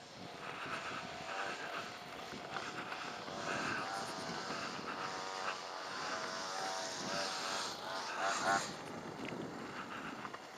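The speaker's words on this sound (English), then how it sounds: "someone with a stupid power mower thing making a" A steady power mower engine drones nearby throughout, with slight wavering in pitch.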